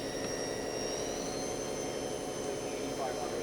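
A Haas vertical machining center spindle runs at 5,500 RPM with a steady high-pitched whine and even broadband machine noise throughout, with no change in level.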